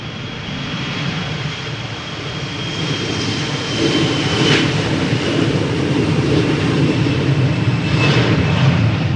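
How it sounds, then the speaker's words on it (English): A five-year-old KLM Embraer 175 airliner departs Amsterdam Schiphol for Belfast, its engine roar a broad, steady rush with a thin whine, swelling louder partway through and staying strong, with no talk. "KLM flight 949. Embraer 175 going to Belfast."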